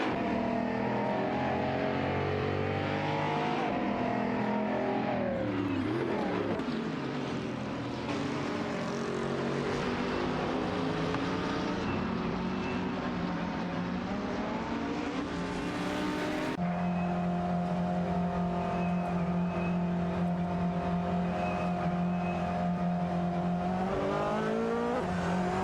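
Race cars in an AI racing video game, including a Dodge Viper SRT GTR3 and an Audi R8 LMS Ultra, roar continuously with rising and falling engine pitch through gear changes, loud and close, no voices.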